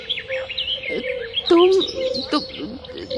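Several bright bird chirps and warbling calls, close and clear, over a steady tonal hum.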